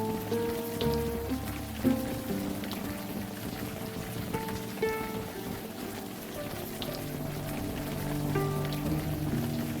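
Steady pouring rain in the Unavowed game spatters continuously on surfaces, a soft, even patter over a low musical drone with no voices.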